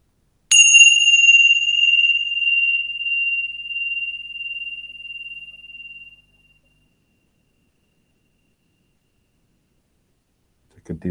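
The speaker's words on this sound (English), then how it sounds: "Wait for the sound of the bell." A meditation bell is struck once, its clear ringing tone sustaining and slowly fading over several seconds into silence, followed near the end by a brief low rumble.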